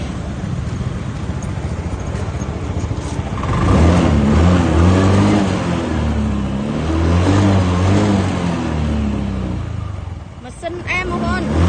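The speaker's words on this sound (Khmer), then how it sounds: "មកជុំទៀតស្ដាប់ម៉ាស៊ីន" A used Honda Scoopy scooter engine idles, then runs up in revs and settles again, heard close. Someone talks over it throughout.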